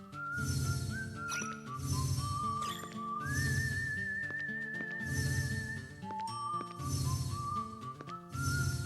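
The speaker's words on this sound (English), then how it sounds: "I should just go ahead and call the horses." A sustained whistle tone calling horses in the video game Wild Arms 3, over a pulsing game soundtrack, rising and holding steady, repeated a few times among the music.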